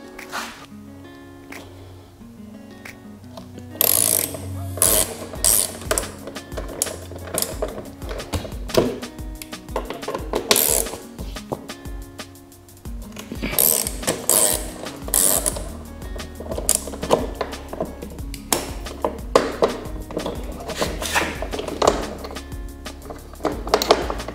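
A hand ratchet with a 6mm hex bit clicks and ratchets in uneven bursts while loosening foot peg bolts on a Suzuki DR650 motorcycle, close up, with clanks of metal between strokes and no talk.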